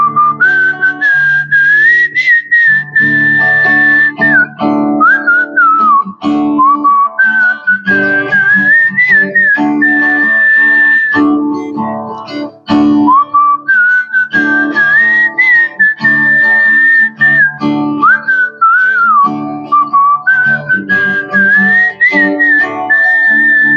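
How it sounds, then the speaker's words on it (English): A person whistles a melody solo, clear and loud with shifting held notes and brief phrase breaks, steady throughout with no other sound. "So instead, I just whistle those notes out"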